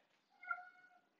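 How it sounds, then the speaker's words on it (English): A single cat meow, drawn-out and tonal, rises to a peak and trails off, faint and alone against near silence in a room during a yoga practice. "that's his meow"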